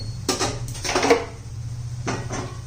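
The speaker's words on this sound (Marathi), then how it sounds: "आता पुन्हा झाकण ठेवून देऊया तीन चार मिनटं तरी" A metal lid set onto a pot of cooking ridge gourd in a home kitchen, giving a couple of close clanks and scrapes of metal on metal, then a quieter second clatter after a short pause.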